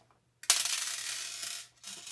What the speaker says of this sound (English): Those are just screws.